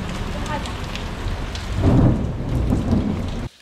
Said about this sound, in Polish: Pomału dociera huragan Tracy.